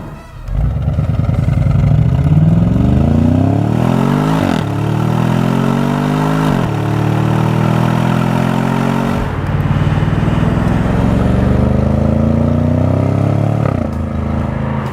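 A 2018 Audi S6's stock exhaust roars as the engine revs up repeatedly, each rise in pitch falling back before climbing again, loud and close.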